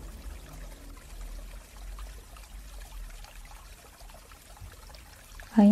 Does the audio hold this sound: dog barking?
no